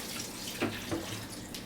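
Filtered water from a Berkey filter pours steadily into an Instant Pot, a continuous close splashing stream with a couple of slightly heavier gurgles.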